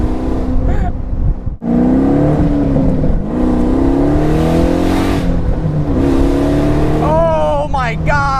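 LS3-swapped Pontiac Solstice engine revving hard and accelerating, a loud, continuous roar that climbs and drops with gear changes, heard from inside the car with a voice mixed in.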